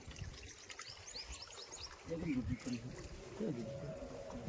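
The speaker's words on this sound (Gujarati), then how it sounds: "અત્યારે પાણી પણ આવે જો આમાં" Water pours and trickles faintly into a cattle water tank for buffalo and cows on a livestock farm in Kutch, with a voice speaking over it.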